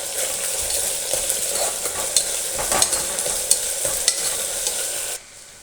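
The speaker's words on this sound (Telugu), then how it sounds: "ఉల్లిపాయలు కొంచెం వేగిన తర్వాత అల్లం వెల్లుల్లిపాయ పేస్ట్ వేసి బాగా మిక్స్ చేయాలన్నమాట. పచ్చివాసన అయినంత వరకు వేగించాలి." Onions frying with ginger garlic paste for an Indian masala curry, stirred briskly so a dense sizzle carries repeated clicks and scrapes of the spoon before cutting off abruptly near the end.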